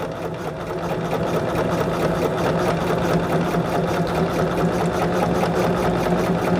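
A sewing machine stitches fabric for a quilt block with a continuous, even mechanical chatter and motor hum, loud and close, running the whole time with no talking.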